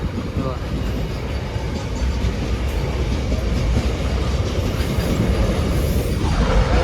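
A train rolls past a village railway crossing, a loud, continuous rumble and clatter of wheels close by, with a faint squeal toward the end and voices partly buried beneath it.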